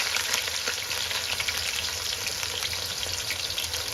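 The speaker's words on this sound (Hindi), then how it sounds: "तो अब इसमें जो हमने प्याज काटा है वो बिस्मिल्लाह पढ़ के डालेंगे" Chopped onions go into hot oil and fry with a steady, fine crackling sizzle, close and even throughout with a faint crackle of small pops.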